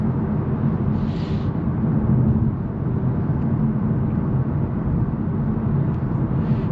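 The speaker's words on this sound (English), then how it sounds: "Just a little bit of road noise coming from the tires" Tire road noise fills the cabin of a 2025 VW Golf R on the move, a steady low broadband rumble with a soft hiss above it, constant and close, briefly swelling as something passes.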